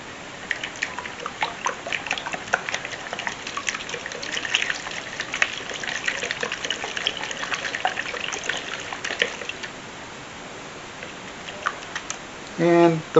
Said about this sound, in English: Now we add the oil.